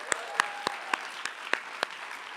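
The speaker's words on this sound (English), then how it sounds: "Let's welcome them with the biggest round of applause," Thin, scattered clapping from a small audience welcoming panelists at a creators' conversation panel; seven or so distinct claps at a loose, irregular pace over a quiet room with a faint hum.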